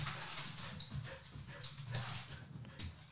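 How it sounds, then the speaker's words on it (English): Pet dog Evie whimpers and yips in short, restless bursts at close range over a low background hum, with no talk. "My dog is nuts"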